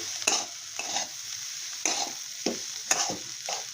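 Cauliflower and egg bhurji stirred and fried in a pan: a soft sizzle with several distinct spatula scrapes at irregular intervals, close and moderately quiet, with no talking.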